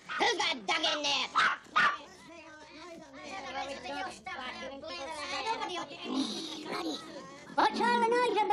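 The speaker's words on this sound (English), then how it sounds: "I thought I heard a dog myself." A dog barks in short repeated bursts, loud and close at the start and again near the end, with people talking in between and over the barking.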